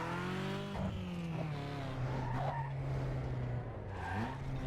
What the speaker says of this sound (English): I'll do a drift